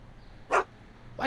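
Einie, a dog in the Back to the Future video game, gives two short, sharp barks about half a second apart, fairly close and alone.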